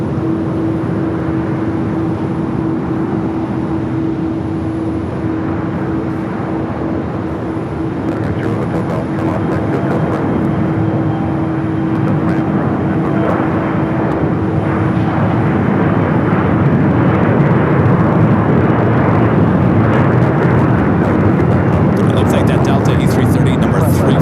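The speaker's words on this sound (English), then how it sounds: "Now heading out for a 25 right takeoff." Airliner taking off from runway 25 right at Phoenix Sky Harbor airport, a steady broadband jet roar with a sustained tonal whine, loud and continuous, swelling slightly toward the end.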